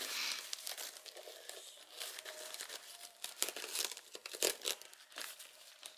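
Paper crinkles and tears in quick irregular bursts, close and fairly soft, as wrapping is pulled apart with no voices.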